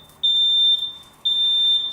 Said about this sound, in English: With smoke pouring into our room, the photoelectric alarm went off in about a minute.